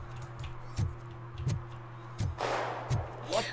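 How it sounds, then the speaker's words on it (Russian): Gunfire from a shooting range in the video game Robocop Rogue City: sharp single shots spaced about every 0.7 seconds at mid distance, with a burst of noisier blasts near the end, heard under a low steady hum. "А, они просто тренируются в стрельбе."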